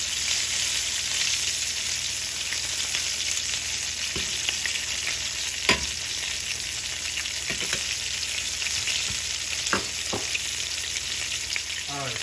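Chicken browning in a frying pan gives a steady, even sizzle throughout, with a few sharp pops and crackles standing out now and then, and no one speaking.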